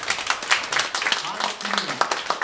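Scattered audience clapping at an opera night concert, moderately close and irregular, with a voice talking over it.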